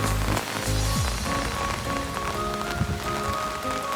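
Steady rain patters on a surface throughout, a constant wash of noise with no voices.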